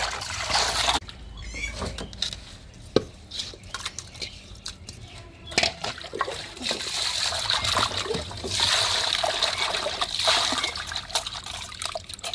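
Crab is rinsed in water by hand, with close, irregular splashing, sloshing and trickling that keeps going throughout, broken by small knocks and spills.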